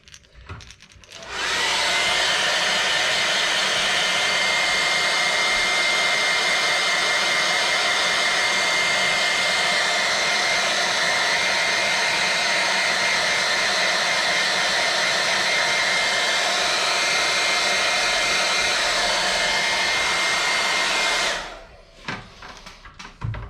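A hair dryer dries airbrushed paint on a fishing crankbait, switching on into a loud, steady close-up roar held for about twenty seconds before cutting off.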